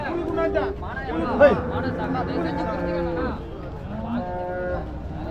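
Holstein Friesian cattle low repeatedly at a busy livestock market, with several long moos rising and falling near and farther off while people chatter and talk throughout.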